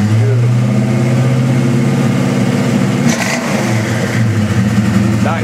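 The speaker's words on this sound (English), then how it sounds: "give us a couple RPMs there" A 1968 Shelby GT-350's V8 runs loud and close, holding a rumbling idle and then climbing through a couple of short rev blips, with no talking over it.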